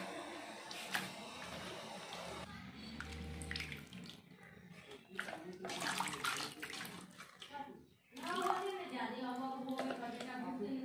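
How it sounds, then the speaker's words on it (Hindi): Running tap water splashes as mutton is rinsed in a sink, with someone talking over it throughout and a brief pause in the flow before it resumes. "इस तरह से मैं 2-3 बारी से धो लूँगी"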